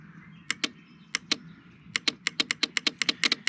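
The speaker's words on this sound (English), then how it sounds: "hear the relay clicking." Sharp mechanical clicks from a relay in a Nissan 240SX engine bay, tapped by hand: a few spaced taps then a quicker run of repeated clicks, close and crisp over a faint background hum.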